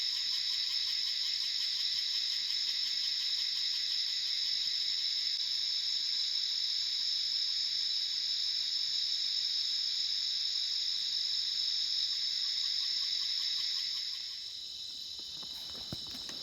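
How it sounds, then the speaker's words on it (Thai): Crickets chirp in a steady, shrill, continuous trill at night in the forest, unbroken throughout, with a slight shift near the end. "จิ้งหรีดมันฮ้อง"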